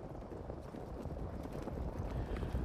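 Racehorses break from the starting gate in race 8 and gallop off in a dense, continuous drumming of hooves, fairly faint and distant and mixed with wind noise.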